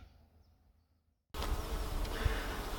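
Honeybees buzzing around a nuc hive outdoors, a dense, loud, continuous drone that starts abruptly after a quiet opening and carries on steadily without speech.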